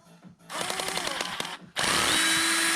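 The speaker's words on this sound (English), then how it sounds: "Take the disc off using a drill. Got a Torx head on it." A power drill whirs in short bursts, its pitch shifting as it loosens a Torx disc brake bolt on a mountain bike, then runs at a steady high whine.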